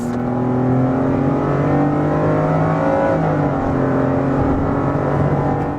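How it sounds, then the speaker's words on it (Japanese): Gasoline engine of a Toyota Sienta MXPC10 minivan revving hard under acceleration, a loud, steady drone with rising and falling harmonics heard from inside the cabin, with no talk. "踏むと大きく盛り上がるエンジンノイズ。"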